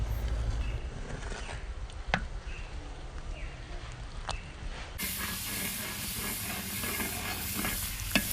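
Coconut milk simmering in a pan for hot-pressed coconut oil, a steady hiss and steam-like sizzle running throughout, with a brief sharp click at one point and a denser, brighter bubbling in the second half.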